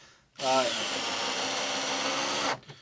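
A power drill drives a screw into a kayak mount, a single close, loud whirring burst of about two seconds that starts abruptly and stops cleanly.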